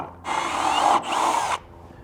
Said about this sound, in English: we're going to drill a hole through the decking material